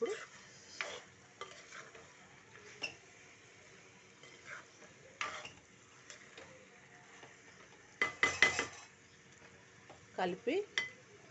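A utensil stirs eggplant and tomato curry in a pan, making soft, scattered scrapes and clinks with a faint sizzle underneath. The stirring grows louder with clustered knocks near the end.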